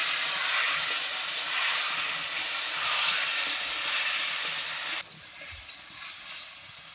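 Goat meat with garlic and onion hitting a hot wok, a loud broad hiss and sizzle that holds steady for five seconds, then drops to a quieter simmering crackle.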